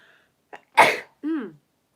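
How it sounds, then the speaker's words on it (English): A single close sneeze: a short sharp intake, an explosive burst, then a brief voiced trailing sound. "About to sneeze again."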